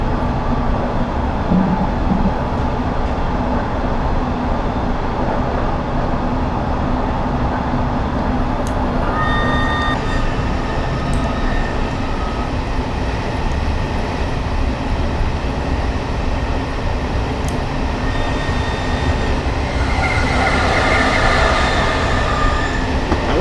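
A London Underground S8 stock train runs in the Train Simulator 2019 video game with a steady loud rumble of wheels on track, occasional squealing tones and clicks, and a brief brake hiss near the end.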